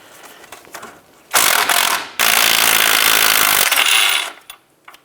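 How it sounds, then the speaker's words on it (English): A 17mm socket on a ratchet wrench loosens the tie rod end nut on a 2008-2013 Nissan Rogue front steering rack, producing two loud, sustained grinding, clicking bursts with brief gaps, up close and without talk. "I'm going to go ahead and loosen and remove the nut on our tie rod end."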